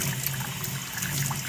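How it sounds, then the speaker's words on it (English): Water runs steadily to rinse a sewer jetter's filter, a continuous hissing, splashing stream heard up close with no talking. "So we're washing this valve right now, or this filter."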